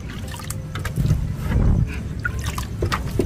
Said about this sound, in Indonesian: Sekarang kita tinggal tambahkan air saja untuk menghilangkan sisa-sisa pasta giginya